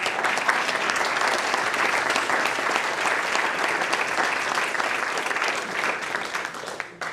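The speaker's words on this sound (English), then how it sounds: "Put her round of applause." An audience at a Groton board of education meeting claps steadily for about seven seconds, a dense, even patter of many hands that tapers off at the end.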